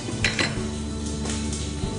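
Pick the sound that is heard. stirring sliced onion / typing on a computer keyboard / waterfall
stirring sliced onion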